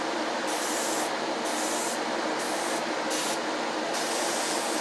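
Spray paint hisses in five short, close bursts over a steady background hiss while the drivers of a model steam locomotive are weathered.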